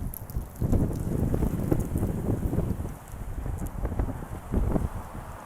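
Steady gusting wind buffets the microphone, a continuous low rumble that swells and eases throughout, with no voices.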